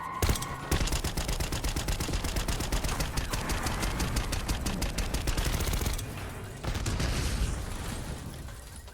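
Dense, rapid automatic gunfire from the Black Ops 6 campaign, loud and continuous bursts of shots with a brief dip near the end before firing resumes, no talk over it.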